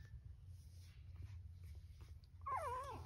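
Sleeping puppies make faint whimpering cries, a soft, wavering high whine that rises toward the end over a low, quiet background hum.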